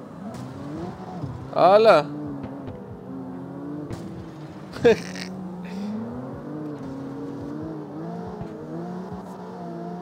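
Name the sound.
cars drifting in the video game CarX Street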